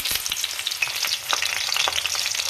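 Onion pieces and curry leaves sizzle and crackle steadily in hot oil, a close, busy frying hiss with small scattered pops and no voices.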